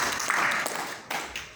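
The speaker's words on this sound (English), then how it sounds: "Round of applause." Audience clapping at a school gathering in eastern Uganda, a steady broadband patter that dips briefly near the middle and then picks up again, with faint voices mixed in.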